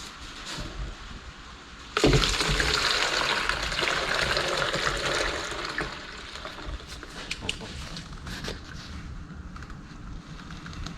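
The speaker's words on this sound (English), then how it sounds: "I'm going to tip it into this bucket and put it back in its bottle" Reusable rust remover liquid is poured from a Yamaha XS650 fuel tank into a bucket, a sudden gush that stays steady for a few seconds, then eases into a thinner trickle with small splashes, fairly close.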